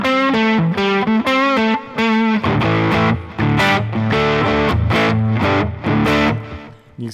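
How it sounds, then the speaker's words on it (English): Stratocaster played through a Fender Mustang LT25 amp with distortion and delay, a loud sustained lead line of bending, singing notes over chugging lower chords, continuous and close with no voices. "I'll use the distortion."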